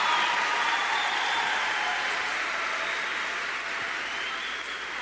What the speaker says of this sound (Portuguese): dê um grande aplausos para ela